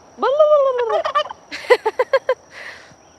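An adult male turkey gobbles close by on a homestead, a rising warbled call followed by a quick rattling burst of repeated gobbles, loud and clear against quiet.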